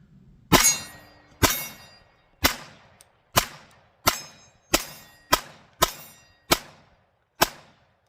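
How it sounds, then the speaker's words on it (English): Pistol shots from a Glock 19 with a Krusher slide on a Palmetto State Armory frame ring off steel targets, about ten sharp clangs spaced roughly half a second apart, each leaving a brief metallic ring. "Throw some rounds down range and see if this Krusher crushes the targets."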